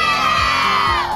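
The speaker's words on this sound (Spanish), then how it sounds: "ese grito de guerra que dieron ustedes al principio" A group of children at a sports event shout a loud war cry together, a dense burst of whooping and yelling voices filling the short moment.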